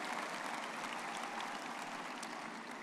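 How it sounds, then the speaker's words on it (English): Audience at a May commencement ceremony applauding: a steady, dense wash of clapping from many hands, held evenly throughout with no voices. "Give them a round of applause."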